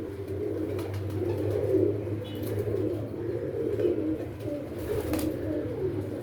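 Pigeons coo softly and continuously, low throaty calls repeating close by over a quiet background hum.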